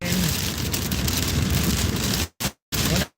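Rain pattering steadily on a moving vehicle, a dense close wash of drops and road noise that breaks into choppy fragments near the end.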